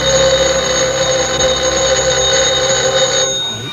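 An old telephone bell rings loudly and continuously for several seconds, then cuts off abruptly near the end.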